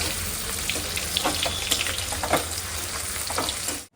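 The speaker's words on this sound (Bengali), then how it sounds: "আর এখন একটুখানি পকোড়া ভাজলাম ওদের জন্য, চিকেন পকোড়া।" Chicken pakoras sizzle and crackle in hot oil, a dense, steady frying hiss with small popping bursts throughout, close and continuous until it cuts off abruptly at the end.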